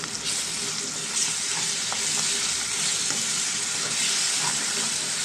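Onions with ginger, garlic and cumin paste fry in a pan for a drumstick, tomato and egg curry, a loud, steady hiss of sizzling oil with occasional stirring scrapes, close and continuous.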